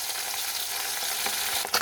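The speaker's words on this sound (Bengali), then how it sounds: "এবার আমি মাছগুলোকে উল্টে উল্টে ভেজে নেব।" Fish pieces frying in hot oil in a pan, a continuous close, bright sizzle with a short clink of a utensil turning them near the end.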